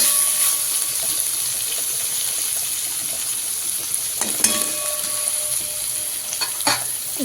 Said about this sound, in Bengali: একটু ভালো করে আরেকটু ফ্রাই করে দিই টমেটো আর আলু।